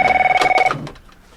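A telephone bell rings loudly in short rapid repeated bursts for about the first half second, then cuts off as the line is answered, leaving a faint room tone.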